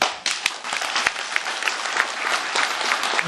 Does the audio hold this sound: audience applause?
yes